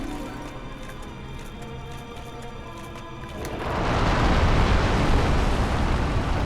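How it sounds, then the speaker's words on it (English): In the Dark Souls game's Izalith area, a floor crumbles: a steady rumbling gives way to a loud, dense, sustained crashing roar in the second half. "So of course the floor right in front of her is going to crumble."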